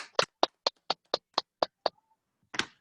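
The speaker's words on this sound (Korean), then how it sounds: "자, 같이 박수로 모시도록 하겠습니다." Eight evenly spaced claps from a single pair of hands on a Zoom call, crisp and close, followed by a short pause and then one softer, rougher burst of clapping.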